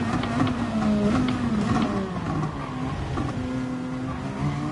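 Race car engine in a racing video game, a loud continuous exhaust drone with shifting pitch as the car works around a corner, steady throughout with no talk.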